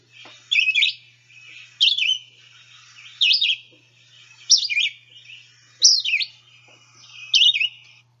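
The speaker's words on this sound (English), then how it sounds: "we get a red-eyed vireo with a song mnemonic that sounds like, "Here I am, where are you?" Red-eyed vireo sings short, clear, slurred phrases, six in a row spaced about a second apart, each a quick rising-and-falling whistle heard alone against a quiet background.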